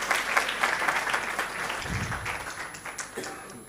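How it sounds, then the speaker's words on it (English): A room of teachers and colleagues at a research colloquium applauds the top five presenters with moderate, continuous clapping that softens as it goes, and a brief low murmur of voices comes through midway. "can we give a huge round of applause for our top 5?"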